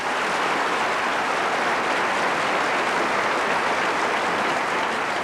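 A theatre audience applauds at the close of a boulevard play, a dense, unbroken roar of clapping from a large crowd that stays loud and steady throughout.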